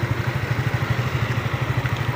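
A motorcycle idles close by, its engine pulsing in a steady, even low chug with a light mechanical clatter, with no talking.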